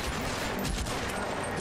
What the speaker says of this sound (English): Someone up there has a big gun. Is that a bar or is this a stationary machine gun?